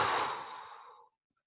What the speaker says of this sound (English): We're going to start by blowing out all the air in our lungs through our mouth and then keep our mouth open